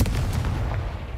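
Confringo blasting curse explosion in the Hogwarts Legacy video game, a short, loud booming blast with a heavy low-end thump that quickly decays.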